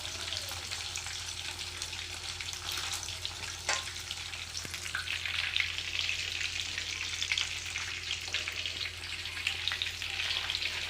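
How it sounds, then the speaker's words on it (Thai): Fish deep-frying in hot oil to get crisp, a steady dense sizzle and crackle running without a break, close and even in level, with no talk. "ปลาทอด จะทอดให้กรอบ"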